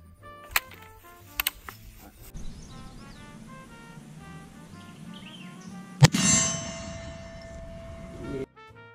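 A metallic clang rings out as a round from a Springfield Model 1873 Trapdoor rifle strikes a steel target, a sharp single impact at mid-distance preceded by a few fainter dings and followed by a lingering ring.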